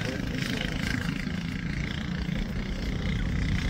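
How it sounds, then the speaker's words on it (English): A kid kart fitted with a clone engine runs on a backyard track, giving a steady buzzing engine drone that rises slightly as it's wound up, heard at moderate distance with a voice talking over it. "Oh, I could hear him winding it up now."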